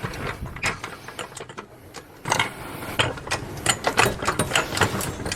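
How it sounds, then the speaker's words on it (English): A jack raising a Toyota truck at the rear jacking point just ahead of the rear wheel, giving rapid ratcheting clicks and metallic clanks in irregular bursts, quieter at first and then louder and busier. "I'm going to use this as a jacking point to jack up the vehicle."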